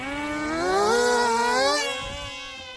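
X320 J-15 RC micro jet, a 520mm EPP electric model, takes off into light wind with a whining motor buzz whose pitch climbs then eases as it moves away, loud and close with no talk.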